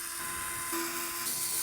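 A small cordless Fantic electric screwdriver backs old screws out of a barn door hinge, giving a steady, close high-pitched motor whine that rises in tone partway through.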